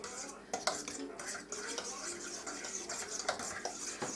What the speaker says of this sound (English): We're going to add this entire package of instant potatoes, and we're just going to mix it